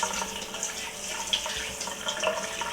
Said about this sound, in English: We'll rinse this a couple of times and then we'll drain.